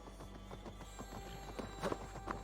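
Horse hooves clip-clopping in a Viking video game, a quick, even series of faint, near clops at a trot, with no talk.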